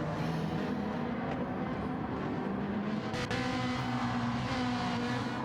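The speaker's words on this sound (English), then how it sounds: "Oh, listen to that engine." A race car engine in the racing game Gran Turismo 7 drones steadily through an endurance championship race, a continuous moderate roar with little change in pitch.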